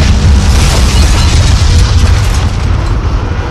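A car blows up when its gas tank explodes: a loud, close, continuous roaring blast that stays heavy throughout and eases slightly near the end, with no talking.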